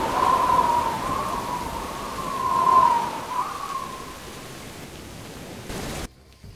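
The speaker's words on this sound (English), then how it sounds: "the rain's easing up" Steady broadband rain hiss from a Jurassic Park video game scene, loud and continuous with a faint whistling tone running through it, easing slightly before cutting to near silence at the end.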